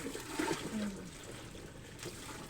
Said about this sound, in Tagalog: transfer na ko ning tubig diri kay para matakluban